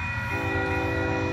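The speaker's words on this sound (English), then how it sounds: "Oh, we got some good power on here. CP red locomotives." A UP manifest freight train led by red CP locomotives sounds a sustained horn blast over the low rumble of the moving train, close and loud.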